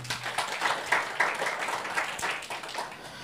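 A church congregation claps warmly during a sermon, with a flurry of quick, overlapping hand claps at moderate distance that tapers off gradually.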